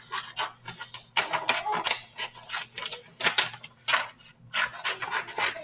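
Scissors snip through paper to cut out a cloud shape, giving a run of short, close, crisp cuts in an uneven rhythm with brief pauses between them.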